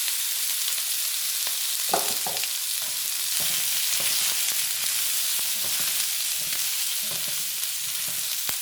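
Chopped red pepper and mushrooms fry in a pan, a constant close sizzle broken by several clattering stirs and scrapes, with no talking.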